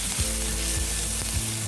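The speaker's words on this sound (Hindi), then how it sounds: "ये सारे चीज़ों को कुछ सेकंड के लिए भून लेंगे" Garlic, ginger and green chili fry in oil with a loud, close, continuous sizzle, broken by a few dull knocks and scrapes of stirring.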